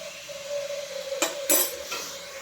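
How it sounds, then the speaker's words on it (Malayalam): Beef curry being stirred and mixed in a pot, with a few distinct spoon-against-pot clinks and scrapes over a steady kitchen background, close and moderately loud, no talking. "ഇതെല്ലാം കൂടി മിക്സ് ചെയ്യും"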